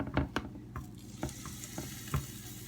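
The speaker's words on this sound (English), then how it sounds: "You can kind of keep an eye on your waffles since they are cooking." Waffles cooking in a waffle iron give off a soft hiss with several sharp taps and clicks scattered over it, all close and fairly quiet.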